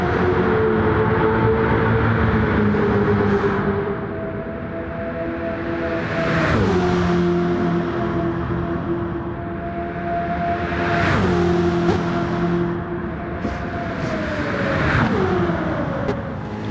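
Nissan Silvia race car in Gran Turismo 7 accelerating hard down straights, engine revving up through gears with audible shift drops and tire noise, loud and continuous.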